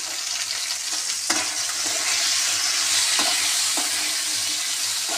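Pointed gourd (potol) pieces, seasoned with turmeric and salt, frying in a pan with constant loud sizzling and occasional stirring scrapes.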